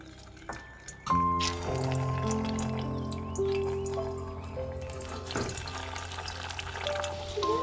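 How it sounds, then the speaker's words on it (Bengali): Snacks made of egg, potato and flour sizzle in hot white oil in a wok. The frying starts loud as they go in and continues as a steady crackle over a low tonal hum. "কড়াইয়ের মধ্যে তেল দিয়েছি সাদা তেল তেলটাও গরম হয়ে গেছে এবার আমি এর মধ্যে স্ন্যাক্সগুলো দিয়ে দিচ্ছি"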